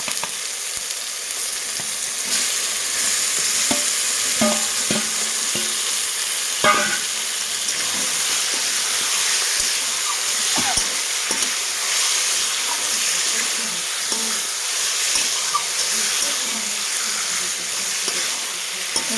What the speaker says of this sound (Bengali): এইভাবে আমি নাড়াচাড়া করে নিচ্ছি।